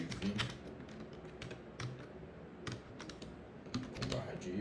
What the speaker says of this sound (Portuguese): vou escrever um código aqui rápido aqui,